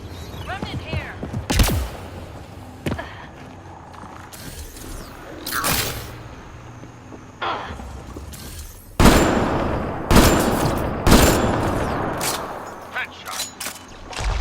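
Gunfire rings out during a firefight in the video game Mass Effect Andromeda, with sharp, loud shots in irregular bursts and clusters, some rapid and some spaced apart, mixed with mechanical clanks and brief voices.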